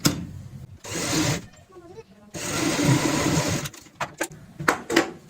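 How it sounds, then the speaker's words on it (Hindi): A sewing machine runs a basting stitch on cushion cover fabric in two sustained whirring bursts, then short stop-start runs, close by; a person talks over it. "ये हमने कच्ची सिलाई लगा ली है जो कि हमें बाद में खोलनी होती है"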